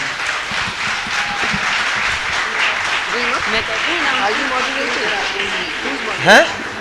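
Applause fills a hall at a literature festival session on transgender rights, steady broadband clapping running throughout with voices talking over it and a brief tonal sweep near the end.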